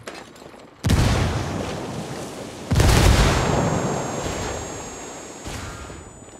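Two heavy grenade blasts in the video game Ghost Recon Wildlands, each a sudden loud boom followed by a long rumbling decay, with a smaller thump near the end; no talk over them.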